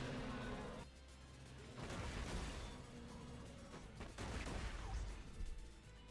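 Repeated explosions and gunfire-like bursts in the Borderlands Arcania mod, dense and loud, continuing throughout with overlapping booms and crackles.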